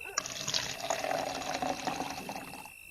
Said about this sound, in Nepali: एउटा बटुकोमा अलिकति पानी लिएर आ त